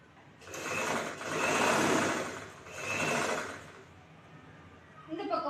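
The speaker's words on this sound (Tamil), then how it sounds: "ஊசியை நிப்பாட்டி துணியை திருப்பி இந்த பக்கமா மடக்கி தைச்சுக்கலாம்." A sewing machine stitches a blouse neckline in two bursts of whirring motor, the first longer than the second, with a short pause between them and a faint clatter at the end.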